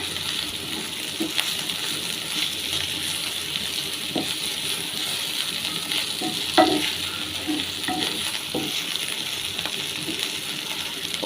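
Dried shrimp fry steadily in a pan with a constant close hiss, with occasional stirring scrapes and faint clinks throughout and no talk.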